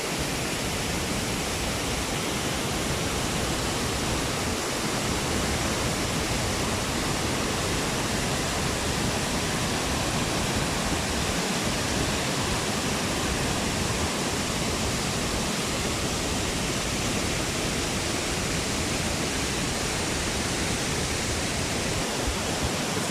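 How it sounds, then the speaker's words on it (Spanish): Salto del Diablo waterfall on Río Claro in Támesis, Antioquia, Colombia, roars as a steady, dense wall of rushing water, loud and close, with no break or change across the whole stretch. "Miren la magnitud de esa cascada."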